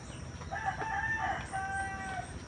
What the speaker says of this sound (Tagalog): maraming mga manok sila dito